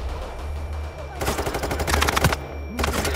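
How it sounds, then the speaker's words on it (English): In the PayDay 3 heist video game, a flashbang grenade bursts amid rapid gunfire, a dense loud crackling volley after a low steady hum, followed by ringing tones, with a brief voice in the mix. "Flashbang."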